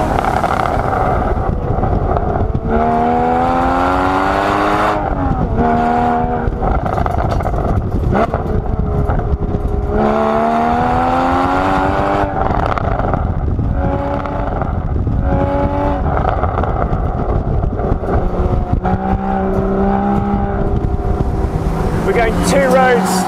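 A Porsche Boxster GTS drives a winding mountain road on Mallorca, its engine loud and close, climbing through revs and dropping on repeated gear changes, with wind buffeting and someone talking over it.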